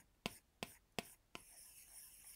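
Apple Pencil tip tapping and stroking across an iPad fitted with a Paperlike matte screen protector, giving three crisp, close clicks followed by a softer, papery scratching drag.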